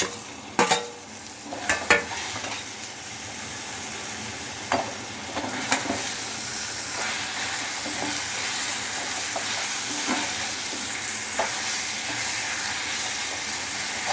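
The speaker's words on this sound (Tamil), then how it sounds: "தக்காளி கொஞ்சம் வதங்கணும்" Tomatoes sautéing in a pan for a cauliflower and potato kurma, a continuous loud sizzle and hiss with a few clanks of a spoon stirring near the start, no talking.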